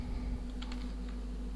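A few quick keystrokes sound on a computer keyboard over a steady electrical hum, soft and close.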